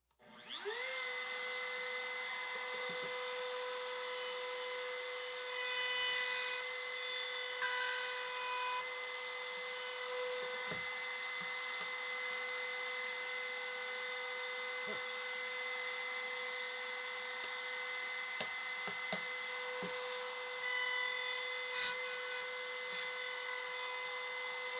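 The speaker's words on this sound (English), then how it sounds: "router on." A router cuts wood for the tray sides of a hexagonal jewelry box, whining steadily and loudly for the whole stretch with small shifts in pitch as it bites.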